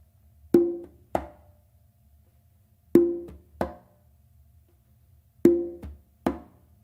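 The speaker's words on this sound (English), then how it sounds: "I'm just going to show you kind of that transition before going to that tumba" Conga and tumba drums play a short transition of open tones and a crisp close slap, struck in three clear pairs of ringing hits with pauses between, close and alone.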